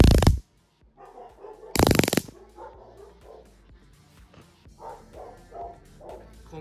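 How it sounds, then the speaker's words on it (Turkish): Neighbour's dogs barking in the distance, a series of faint, scattered barks following two loud crackling electric bursts from a rechargeable stun device. "Komşunun köpekleri harekete geçti."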